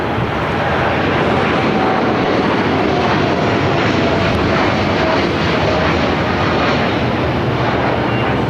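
An airliner landing at Los Angeles airport on runway 5 left roars steadily and loudly throughout, a continuous broad engine rush with no talk.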